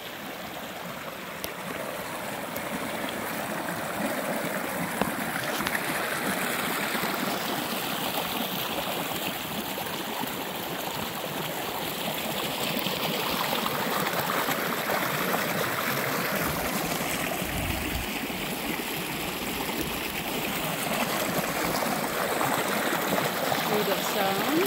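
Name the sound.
mountain stream flowing water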